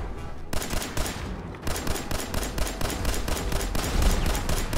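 In Fallout 4, an explosive pistol fires over and over in a close, loud barrage of sharp cracks and blasts that runs without pause through the whole clip.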